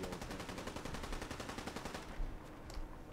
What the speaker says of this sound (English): Why are there still more gunshots?